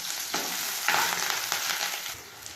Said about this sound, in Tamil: இதை சேர்த்து நல்லா வதக்கி விட்டுக்கலாம்.